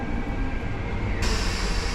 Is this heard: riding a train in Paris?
yes